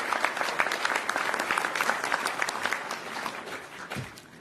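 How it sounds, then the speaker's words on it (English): A town hall audience meeting the mayor about a proposed arena claps in a brisk, steady round that slowly thins and fades toward the end. "Give a round of applause for Jennifer as she walks through the rules of engagement."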